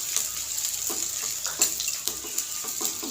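Chopped onions frying in hot oil in a pan, giving a steady, fairly quiet hiss and crackle with soft scattered pops and no voices.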